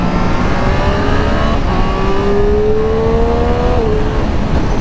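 A Triumph Street Triple RS motorcycle gives a loud, continuous exhaust growl up close, its engine note climbing steadily in pitch as it revs, then dropping slightly at the end.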